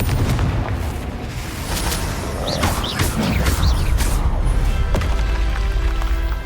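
Confringo fire-blast spells explode in combat in Hogwarts Legacy, with loud repeated booming bursts over a dense rumbling game soundscape and whooshing effects, close and continuous.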